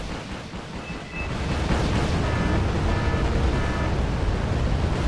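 Bombs striking a Challenger 1 Mark II tank in the real-time strategy game Wargame, a low rumbling eruption that swells after a quieter start and rolls on loud and sustained, with no talk.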